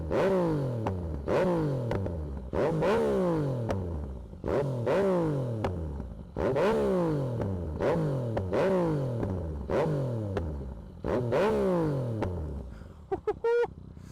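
A stock-tuned new motorcycle revs repeatedly in sharp, rising bursts, about a dozen quick throttle blips in steady rhythm, loud and close, before stumbling and cutting out near the end.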